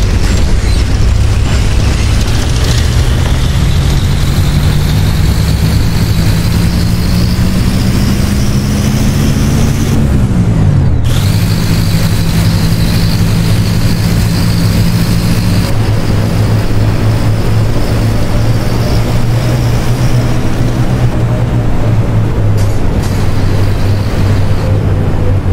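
A 2007 Marcopolo Torino bus in the OMSI 2 simulator revs on its own from a faulty accelerator, the engine note rising, dipping sharply, then climbing and droning loudly, close and continuous with no talk.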